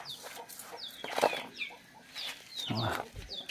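Chickens clucking repeatedly at close range on a small farm, with several short overlapping calls and a couple of louder squawks.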